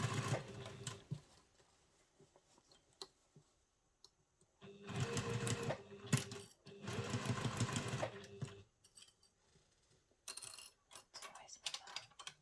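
A sewing machine stitches a seam on a travel satchel in several short bursts of rapid clatter with quiet pauses and small handling noises between them, close and fairly faint.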